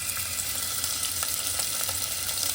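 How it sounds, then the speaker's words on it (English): Broccoli sizzles steadily in a hot frying pan, a dense continuous crackle with faint pops throughout, close and fairly loud with no voices. "You can hear it sizzling away."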